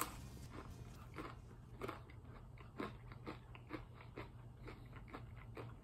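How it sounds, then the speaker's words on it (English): Repeated crisp crunches of someone biting and chewing a crunchy Little Caesars pizza crust, close up, several bites in an irregular rhythm over steady low background hum, no talking. "It's like, it's a nice crunchy crust."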